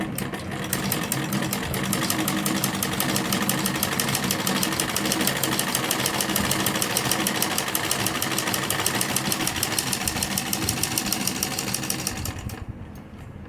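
A sewing machine stitching a line of lace edging close to the buckram along a kurti neckline, running as a fast, even mechanical chatter that stays close and steady before stopping near the end, with no talk.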